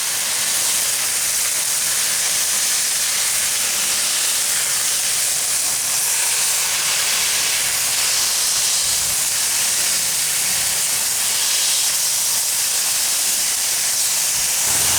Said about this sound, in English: some of that fat's going to help cook this burger and cook that tortilla evenly